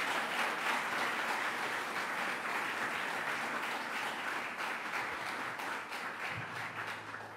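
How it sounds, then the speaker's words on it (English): A round of applause from an audience at a governor's announcement in downtown Rochester, New York, steady dense clapping from many hands holding for several seconds and easing slightly toward the end. "Let's give that a round of applause."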